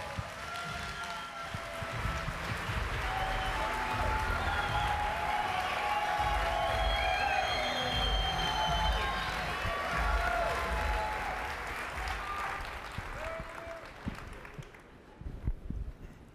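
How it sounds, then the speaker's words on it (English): A large audience applauds steadily, dense clapping with some cheering mixed in, sustained for over ten seconds before tapering off. "Please give him a warm welcome of applause."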